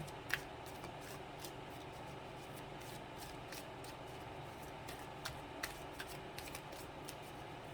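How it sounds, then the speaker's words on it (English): Tarot cards being shuffled, a faint, quiet run of soft riffling and scattered light ticks and snaps, with a few sharper clicks, close by and with no talk. "We're shuffling backwards now."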